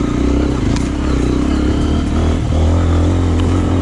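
A Beta trials motorcycle is ridden in second gear, with its engine droning loud and close the whole time and the pitch shifting slightly as the clutch is slipped.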